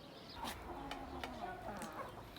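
Chickens cluck close by in a steady, overlapping chatter, with a few sharper calls standing out from the flock.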